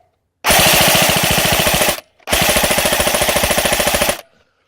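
An airsoft gun fired at the ground in two long rapid full-auto bursts, close and loud, with a brief gap between them and no talking.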